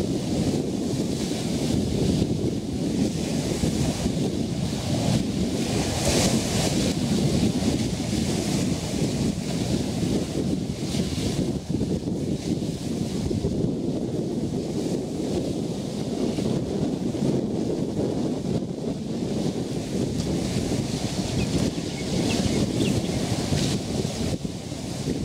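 Wind buffets cameras fitted with foam rubber windshields outdoors, a loud continuous rushing roar with uneven gusts that rise and fall for the whole stretch, with no voices.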